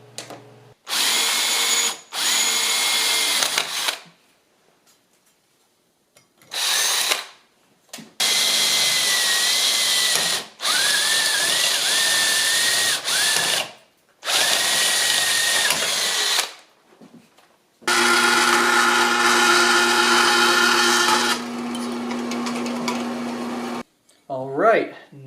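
A power drill boring a clearance hole for a bolt while fitting an electronic instrument cluster into a 1976 Mazda RX-5, several loud, close bursts of whining spin separated by silent pauses.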